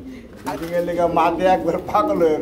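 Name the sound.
pigeons cooing at a pigeon market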